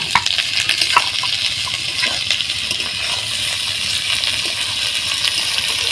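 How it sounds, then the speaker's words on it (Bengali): Raw kuche fish fries on a bed of onions in hot oil, making a loud, continuous hissing sizzle with small crackles and a few stirring taps. "এই পেঁয়াজের উপরেই একটু ভাজা ভাজা করে নেব।"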